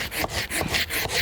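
A small, flexible hand saw rasps back and forth through a tree's wood in quick, steady strokes, close and rhythmic, with no voices.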